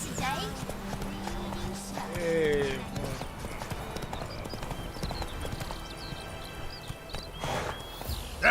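The game horse Roach walks and trots with steady clip-clop hoofbeats at moderate distance, beneath a voice talking to the horse, with occasional creaks and ambient game sounds.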